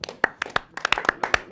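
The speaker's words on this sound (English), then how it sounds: "I need to clap there" Sharp hand claps, about a dozen in a quick irregular burst, close and fairly loud with no voices over them.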